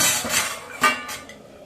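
Dishes and utensils clink in a home kitchen as rice is served, a few quick light metallic taps and scrapes, close and brief, with no talking.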